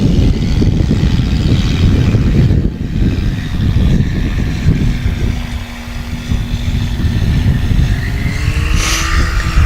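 A Cessna 180 light aircraft landing at a STOL competition, its propeller engine droning steadily and fairly loud throughout, with a brief dip in level partway through before the engine note picks back up.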